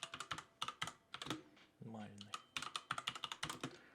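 Rapid clicking of keys as code is typed on a computer keyboard, close and crisp in quick irregular bursts, with a short tonal vocal sound partway through.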